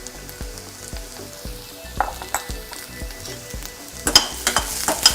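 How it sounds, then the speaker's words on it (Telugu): Onions sizzle and fry steadily in a pan, with scraping stirs and clinks of a utensil through it and a louder burst of sizzling toward the end; no one speaks. "ఇప్పుడు ఫ్రై చేస్తున్నాను ఆనియన్స్ని."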